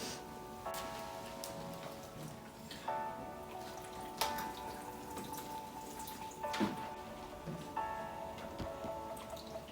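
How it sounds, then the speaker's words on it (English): Water trickles and drips onto a succulent, a soft, faint splashing with scattered louder drops and ringing tones from the container, no voices. "I'm just gonna water this over my other succulent"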